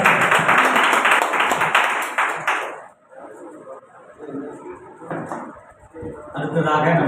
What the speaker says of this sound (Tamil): எல்லாம் கரங்களை தட்டுங்க ஐயா.